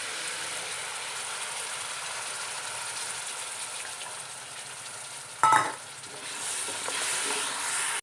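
Ginger fries in a pan for an Onam-special ginger curry. A steady, quiet sizzle runs throughout, broken once by a sharp clatter of stirring, and then the hiss swells slightly.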